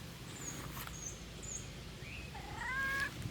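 A cat outdoors in a yard gives a few faint, thin high meows and chirps over steady low background rumble, its calls brief and somewhat distant.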